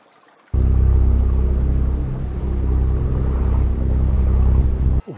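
A boat's outboard motor runs on the Chaudière River, starting abruptly and holding a loud, close, steady low drone for several seconds before cutting off near the end.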